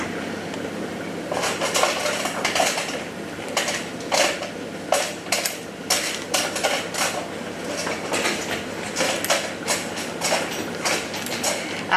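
Tortilla wraps are cut into pieces for homemade tortilla chips in a cook-along kitchen. A quick, irregular series of close, sharp knife taps and clicks on a board repeats steadily over a low hum.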